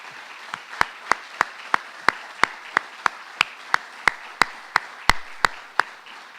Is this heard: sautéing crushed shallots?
no